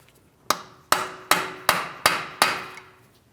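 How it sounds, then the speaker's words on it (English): Six sharp metallic hammer taps on a punch against the front left CV axle of a Chevrolet Malibu, freeing it from the wheel bearing hub, at a steady pace, each ringing briefly before the next strike, close and fairly loud. "We're going to start tapping on this to break the axle free from our wheel bearing hub."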